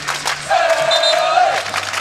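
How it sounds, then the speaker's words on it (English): Fans in Pauley Pavilion cheer and shout for the UCLA Bruins at a women's volleyball match against Arizona State, a loud, sustained crowd roar with a rising yell in the middle. "fans here having a good time cheering on their Bruins"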